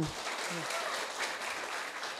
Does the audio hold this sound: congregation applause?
yes